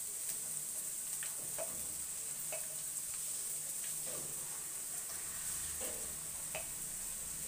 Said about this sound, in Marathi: त्याच्यामध्ये आपण थोडा वेळ त्याला परतून घ्यायचे असते